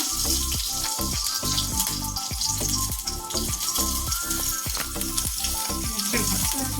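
Chillies fry in hot oil in a home kitchen, giving a loud, continuous sizzle with rapid crackling and popping that holds steady throughout, heard alone without talk.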